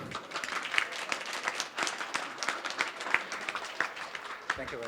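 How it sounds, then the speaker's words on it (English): Wedding guests applaud the groom after his reception speech, a dense, continuous round of clapping from a roomful of people, moderately loud, with scattered voices mixed in. "Let's continue the round of applause for his lovely speech"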